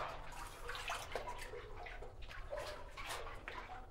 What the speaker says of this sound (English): we just have to wait for the splash behind us